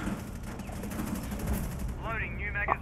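Gunfire crackles in the Rainbow Six Siege video game as bursts of rapid shots, fairly faint, under the excited talk of players.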